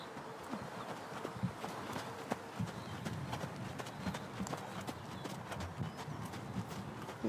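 Hooves of a dressage horse at a trot on an arena surface, giving a steady rhythmic clip-clop at moderate distance, with faint background noise and occasional soft snorts.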